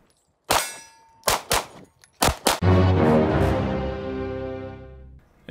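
Several sharp gunshots at a USPSA shooting match, loud and close, with two single reports then a quick pair, each ringing with metallic clang and a long ringing decay after the last.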